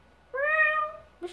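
A single clear cat meow, rising slightly then trailing off, close and fairly loud, followed by the start of another short sound.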